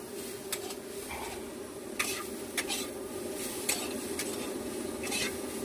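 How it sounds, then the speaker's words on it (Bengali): Potatoes and pointed gourd sizzle as they fry in a pan while being stirred, with a steady crackle broken by several sharp scrapes and clinks of the utensil against the pan. "এই যে আলু পটল ভাজা, যারা যারা খাবে চলে এসো।"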